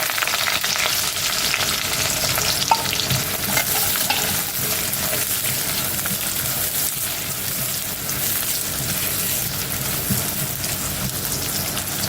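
Chopped large onion hitting hot oil with cumin seeds, a dense, steady sizzle and crackle across the whole stretch, close and loud with light stirring, no voices.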